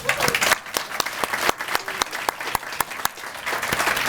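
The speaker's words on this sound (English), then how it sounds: "if we can give them a round of applause" Scattered applause rises from an audience at a Safety Town 50th anniversary celebration in Portsmouth, Virginia, with distinct individual claps and a modest crowd, loud and close, fading slightly before swelling again near the end.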